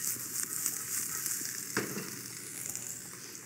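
Spinach sizzling and frying in a pan with shrimp, a steady close hiss with small crackles and one brief stir or clatter in the middle.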